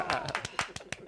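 A handful of sharp, close claps in an uneven rhythm during a radio studio conversation, with a voice talking alongside.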